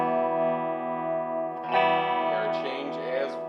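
Dean ML electric guitar fitted with EMG pickups played through heavy distortion, a sustained saturated chord ringing steadily, then a fresh louder strum with gritty, echoing harmonics.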